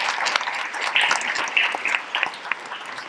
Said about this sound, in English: a round of applause for our co-chair